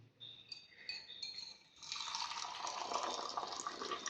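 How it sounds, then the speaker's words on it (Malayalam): Tea poured into a glass at night in a house in Karnataka, heard as a brief clink followed by a steady close stream of liquid filling the glass, with no talk. "ചായ ഇങ്ങനെ ഒഴിക്കുക,"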